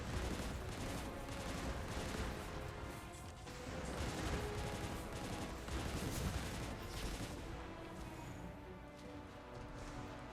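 Dense, sustained gunfire from Destiny Rising, a rapid barrage of overlapping shots with heavy rumbling impacts and blasts running loud and nearly unbroken throughout.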